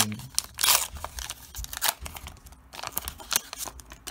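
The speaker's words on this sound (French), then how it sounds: "Voilà, le booster, je vais déchirer" A McDonald's 2021 Pokémon booster pack is torn open by hand, heard as a close, crinkly rip of foil wrapper with rustling and crackling over a few seconds.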